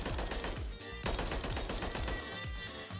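Rapid automatic gunfire at a firing range in the video game Warzone, loud and close, with bursts of shots in quick rhythm and short gaps between them, no voices over it.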